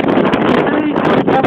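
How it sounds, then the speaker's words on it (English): Wind buffets the microphone on open water during kayak fishing from a Hobie Pro Angler near a spit with a flooding tide, a steady loud broadband roar with gusty fluctuations throughout. "wind."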